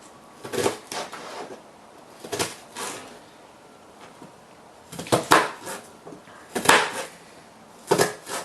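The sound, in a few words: knife chopping an onion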